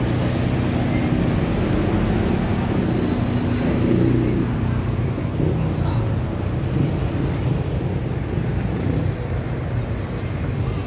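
Road traffic seen from an overpass, a steady low rumble of engines and passing vehicles from below, with a person talking over it.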